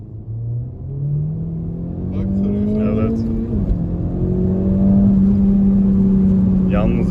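A Honda Civic Type R engine revs and holds a steady rising drone as it spins the tires to heat them in the rain, with a faint voice briefly heard over it.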